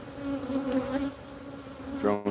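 Honeybees hum at an opened hive in a short, steady buzzing drone that stays close and moderately loud, with one individual bee swelling nearer near the end.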